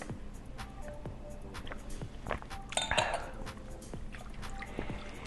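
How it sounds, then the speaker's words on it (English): A whisk clinks and scrapes steadily against a bowl of beignet batter with vanilla extract, a quick repeated rhythm close up, with a brief wet splash midway. "So now we gotta whisk this stuff together."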